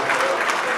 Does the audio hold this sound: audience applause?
yes